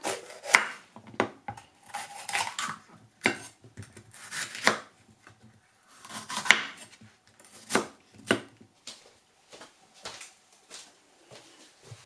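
A knife chops a pepper on a board in irregular bursts of crisp, close strikes spread across the whole stretch, with no one talking.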